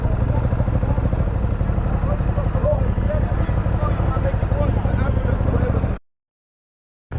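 A motorcycle lane-splits past a line of stopped vehicles, its engine a loud, steady, rumbling drone held close for about six seconds before cutting off abruptly, with voices talking over it.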